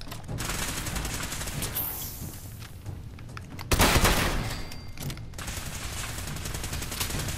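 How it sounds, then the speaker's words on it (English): Shotgun blasts ring out in the Fallout 4 video game amid a rapid fusillade of other gunfire, with one especially loud, close shot standing out from the dense, continuous firing. "Get out our shotgun."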